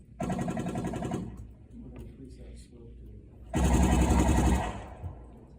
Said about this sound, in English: That sounds a lot more like the Hollywood guns that I'm going after